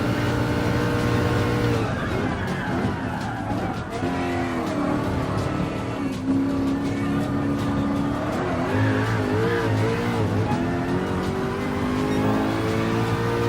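Group C race cars scream past in Gran Turismo Sport, a dense roar of several engines revving and shifting up and down, loud and continuous throughout with occasional tire squeal.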